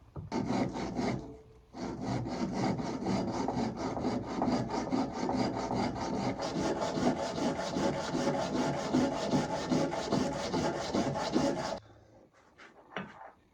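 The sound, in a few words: lapping an oak flag bracket flat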